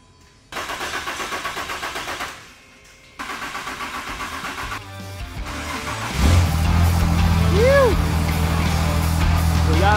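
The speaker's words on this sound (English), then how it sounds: "We're gonna see if it fires up" A diesel truck engine, a 2020 Duramax, cranks briefly with a rhythmic starter chug, pauses, cranks again and then fires up into a loud, steady idle close by, with talk heard over it.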